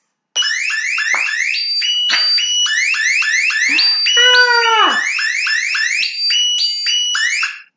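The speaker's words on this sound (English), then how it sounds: "the alarm telling you, come on, time to get up, time to get productive" Alarm clock ringing loudly and close with a harsh, rapidly repeating electronic warble in bursts, briefly interrupted by a rising-and-falling cartoonish whoop; a voice gives a short exclamation.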